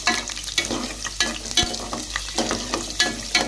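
Cashew nuts fry in oil for a Telangana-style chicken pulao, with a continuous close sizzle broken by rhythmic scraping stirs roughly every half second.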